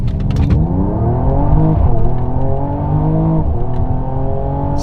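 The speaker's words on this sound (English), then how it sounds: "we'll do our best to do a little brake boost, and we'll start off with a launch here" A Mercedes E53 AMG Coupe launches hard from a brake-boosted standstill, its engine roaring loud and close as revs climb steadily through automatic upshifts with a sustained, rising growl and no talking.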